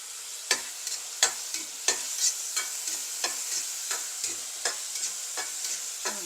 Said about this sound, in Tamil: இப்போ இது நல்லா கொஞ்சம் எண்ணெயிலே நல்லா ஃப்ரை ஆகட்டும்